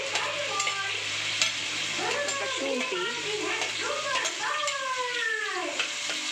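Onion, tomato and ginger fry in hot oil with a steady sizzle. A utensil stirs the pan in scrapes, and voices talk over the cooking.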